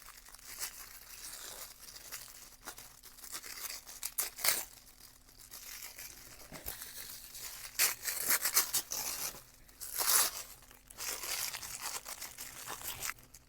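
Tissue paper unwrapped from a Back to the Future collectible package, soft close crinkling and rustling with a few louder tearing swells, quiet and handled up close, no talk.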